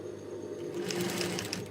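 A sewing machine stitches a top with a steady, fast mechanical whir and rhythmic needle clatter, close and clear, running on its own without talk.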